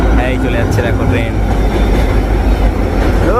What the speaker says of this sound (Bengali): এই চলে যাচ্ছে দেখো ট্রেন।